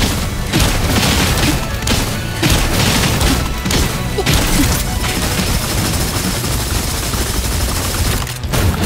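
Explosion attack effects in the video game Honkai Impact 3rd hit as a loud, dense run of booming blasts and crashes that barely let up across the whole stretch.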